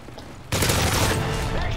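Barrett sniper rifle firing in the Modern Warfare 3 survival mode, a sudden loud blast that cuts in abruptly and rolls on as a dense, booming burst of gunfire.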